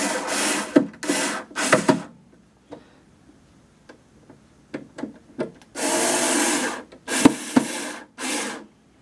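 Screws driven into wood to mount an arcade mini marquee: several loud buzzing bursts from a screw-driving tool separated by quiet gaps filled with small ticks and taps of handling.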